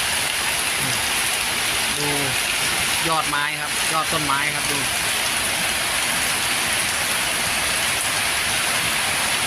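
Heavy rain pours steadily in a dense, constant roar, with strong wind battering a street food stall selling meatballs, while someone talks over it briefly near the middle.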